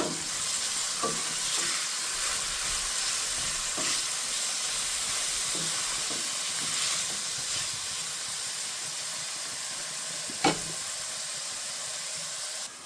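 Salted onions fry in a pan for cabbage rice, a steady loud hiss of sizzling with a few soft stirring scrapes and one sharp clack near the end, no talking.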